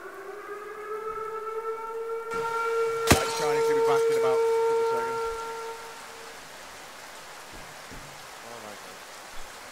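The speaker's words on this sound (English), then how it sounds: "Siren." In a military shooter video game, a steady wailing air-raid siren drones for several seconds over a hiss like rain, cut by a sharp bang, then fades as people begin talking.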